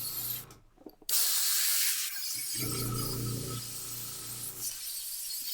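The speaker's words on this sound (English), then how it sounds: "airbrush paint cleaner through there." An airbrush blasts paint cleaner through in loud, close hissing bursts, one short spurt followed by a longer continuous spray that tapers into a softer hiss, with no talking.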